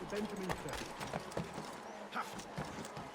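Horse hooves clip-clop in the video game Assassin's Creed 3 Remastered, an uneven run of soft thuds at moderate distance while someone talks over them.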